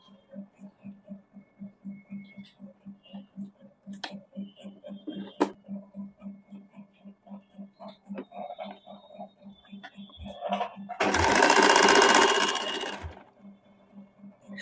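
A sewing machine runs in a steady rhythmic chatter as it stitches a triple-folded side seam on a suit, with a low mains hum beneath, then a louder burst of faster stitching near the end.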